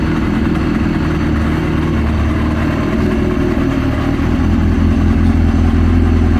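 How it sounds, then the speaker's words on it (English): A 2003 Yamaha RX1 Genesis Extreme snowmobile with a 1000cc four-cylinder engine idles loudly and steadily, its exhaust giving a deep, constant rumble with a slight rise in intensity toward the end. "hear a lot of exhaust noise back here, and at the engine, you hear nothing"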